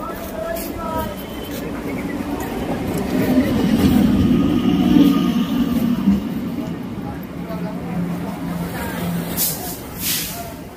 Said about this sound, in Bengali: কোন দিক থেকে ট্রেনের আওয়াজ হচ্ছে